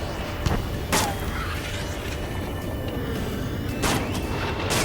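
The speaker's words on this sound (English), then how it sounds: "Lancaster, we're taking fire from the vehicles ahead." Ace Combat 7 gameplay carries a dense rumbling battle bed with several sharp gunshot cracks from enemy vehicles, fairly loud and spaced irregularly over the steady roar.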